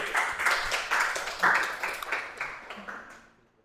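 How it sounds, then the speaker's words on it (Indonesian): A classroom of students in a human resources management lesson claps together, a dense patter of many hands that swells in waves, then thins and fades to silence. "kita aplaus buat kita semua dulu"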